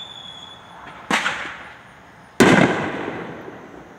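Fourth of July fireworks set off by neighbors nearby: two sharp cracking bursts about a second apart, each trailing into a fading rumble, against a quiet outdoor background.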